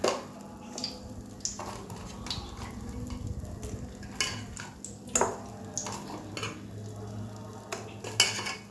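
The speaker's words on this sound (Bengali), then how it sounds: "এই যে মাছ মাখবো, নুন হলুদ দিয়ে এই যে সব দিয়ে দিলাম।" Pieces of fish being hand-mixed with salt and turmeric in a metal dish, with clinks of utensils against the pan, soft squishing and scattered sharp taps, close and steady, no speech.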